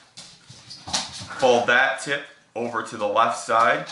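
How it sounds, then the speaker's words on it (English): A dog whimpers while running around a room, with thin high whines that stay in the background beneath a person speaking clearly in the foreground. "that's my dog running around."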